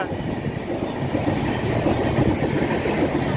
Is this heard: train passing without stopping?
yes